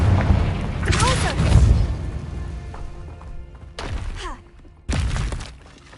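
Spell casting in the video game Hogwarts Legacy: a series of magical blasts, booms and whooshing impacts with swirling tonal effects, several sharp bursts over a rumbling game background.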